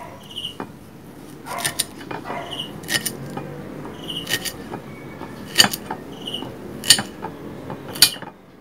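A knife chops okra pods into small pieces on a board, giving sparse crisp clicks and taps that come one at a time at uneven intervals, close and fairly soft.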